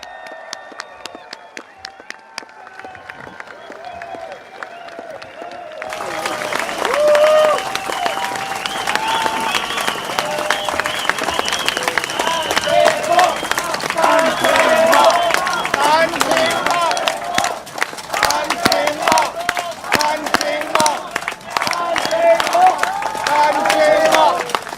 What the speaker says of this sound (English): Please put your hands together, ladies and gentlemen.